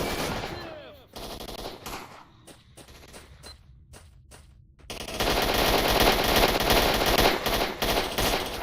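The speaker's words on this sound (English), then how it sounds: "I don't know what he's shooting at over there" Bandits fire guns in the shooter game Stalker Enhanced Edition: rapid bursts of automatic gunfire crack out, pausing briefly before a sustained loud volley, with someone talking over the opening.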